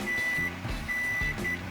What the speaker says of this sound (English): There goes the 15-minute timer you just heard